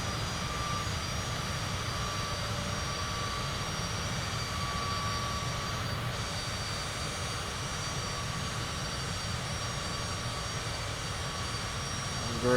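Aircraft engine in Microsoft Flight Simulator 2024 holding a steady low drone with a constant tonal hum after the throttle is eased back, even and continuous throughout, with no speech.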